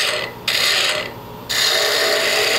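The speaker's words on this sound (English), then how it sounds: "Grab my spindle gouge, and I'm just going to move the wood away." A spindle gouge cuts spinning wood on a lathe, giving a close, steady rasping scrape that breaks off briefly twice, then carries on.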